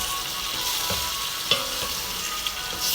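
Vegetables sizzle steadily in a hot pan while being stirred, with a constant frying hiss broken by a few soft utensil scrapes and clicks, close up and with no talking.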